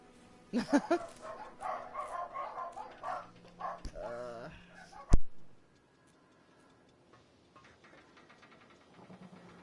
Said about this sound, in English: I bet them barking all the way in there is fucking going through my fucking video.